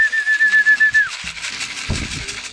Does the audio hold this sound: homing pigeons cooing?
yes